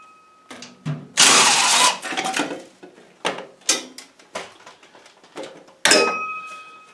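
Self-tapping sheet metal screws are backed out of an MK Martin snow blower chute with a power driver: a loud burst of whirring, then a run of short clicks and clatters as screws loosen and drop, close by, with no talking.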